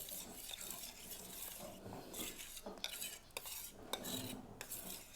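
A spoon stirs batter in a bowl, soft sloshing with repeated light clinks and scrapes against the sides, close and fairly quiet.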